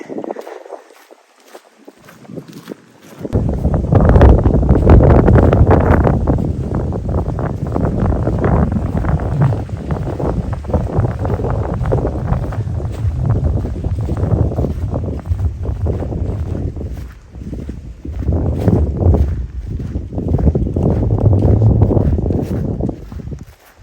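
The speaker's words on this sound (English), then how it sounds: "Getting into more open country now, and it's a bit breezy." Wind blows across open country during a hike, making a continuous loud rush that buffets the microphone with gusty surges. Quieter moments come through only briefly, and no voices are heard.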